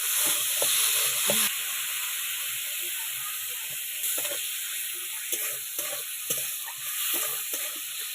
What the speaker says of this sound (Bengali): টমেটো কুচি, টমেটো দিয়ে ভালো করে ভেজে নেব।